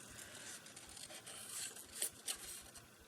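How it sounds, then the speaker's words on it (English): Scissors fussy cutting small paper embellishments, soft quick snips and light paper rustling close by, faint and intermittent with a few slightly crisper cuts. "I'm very quickly going to fussy cut these ones out."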